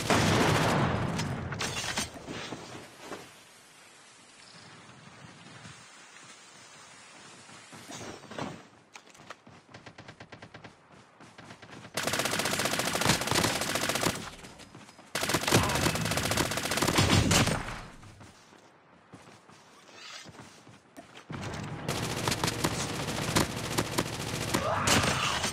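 Gunfire crackles in a battle royale video game, with long stretches of loud automatic fire broken by quieter gaps and scattered single shots.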